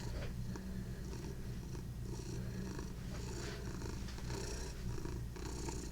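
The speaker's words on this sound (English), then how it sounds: "You hear him purring?" A big, heavy cat purring steadily and close, a continuous low rumbling throb with faint rustling on top, no talking over it.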